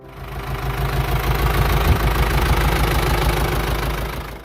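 A Ford 7710 tractor's 4.4-litre four-cylinder turbocharged diesel runs close and loud, a deep, steady knocking rumble that stays even for a few seconds with no talking.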